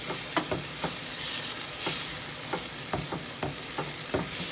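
Food sizzles in a pan on high heat with a loud, continuous hiss, and repeated sharp scraping taps from stirring come at an irregular pace, close up with no talking.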